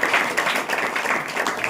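Church congregation clapping hands together during a Hindi-language worship meeting, a dense, steady wash of many claps filling the room without pause.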